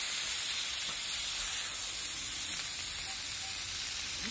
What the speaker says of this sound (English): that macaroni cheese is sizzling